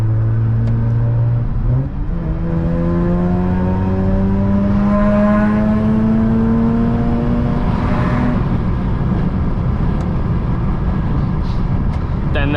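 A Mazda RX-8 rotary engine revs hard toward 9,000 RPM, its loud, close whine climbing steadily in pitch after a brief shift, then holding a high buzzing drone.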